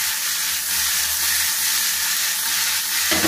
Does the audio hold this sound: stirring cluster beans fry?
yes